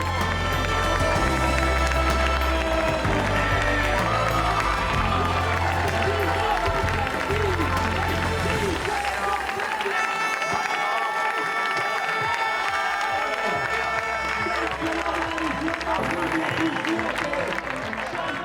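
A crowd cheers and applauds as trail runner Pau Capel crosses an ultra-trail finish line in first place, with steady, dense crowd noise that holds throughout. Voices and shouts blend into the roar.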